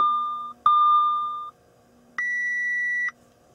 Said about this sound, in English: this alarm went off on the gauge cluster